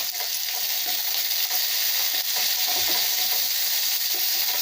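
Onions fry in hot oil in a pan with a loud, dense, continuous sizzle and hiss that stays even throughout, with no talking.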